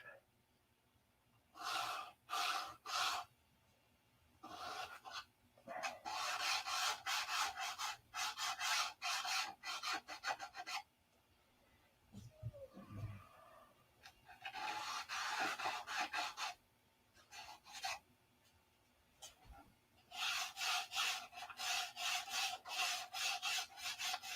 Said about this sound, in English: Fingernail file. I want to go around all the cap strips.